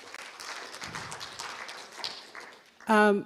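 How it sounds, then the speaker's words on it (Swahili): A short burst of audience clapping rises at a conservancy association meeting, following a stretch of speech and lasting under a second at the very end. "Tuwapigie makofi."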